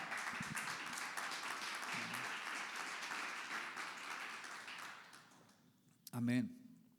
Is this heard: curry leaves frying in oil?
no